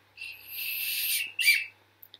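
A small whistle is blown twice close by, a long shrill note followed by a shorter burst, with quiet clicks afterward.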